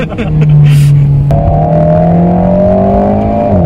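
An Alpine A110S sports car engine revs loudly up close, its droning tone stepping up sharply and holding high, with a voice faintly underneath.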